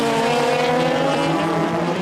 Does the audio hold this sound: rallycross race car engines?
yes